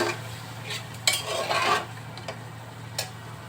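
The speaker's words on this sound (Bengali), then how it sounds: "সবগুলো একটু কষিয়ে নিচ্ছি" A metal spoon scrapes and clinks in a pan as fig (dumur) curry with shrimp and papaya is stirred and sautéed, giving a few sharp scrapes over a faint steady hum and soft sizzle, with no talk.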